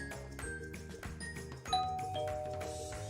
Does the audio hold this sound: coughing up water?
no